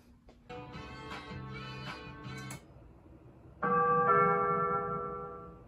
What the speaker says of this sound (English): so you can hear the ring doorbell in action